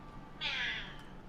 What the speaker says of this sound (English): The cat is not indeed dying.